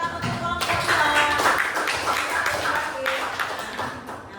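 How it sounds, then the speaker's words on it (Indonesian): A classroom of sixth-grade pupils clapping for a student group, a dense, steady burst of hand claps lasting the whole moment with voices mixed in. "Ikut lagi kita kasih tepuk tangan untuk kelompok 2"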